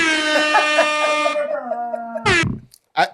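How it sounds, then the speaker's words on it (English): A loud, blaring air horn blast holds steady and then shifts pitch, followed by a brief burst of another sound and a short final honk. "Hold on, air horn."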